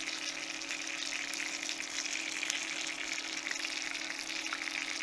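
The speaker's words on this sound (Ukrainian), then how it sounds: "Смажимо з обох боків до золотистого кольору приблизно по 2-3 хвилини." Steady, bright sizzling of chebureks (dough pastries) frying in hot oil, a continuous crackling hiss close by.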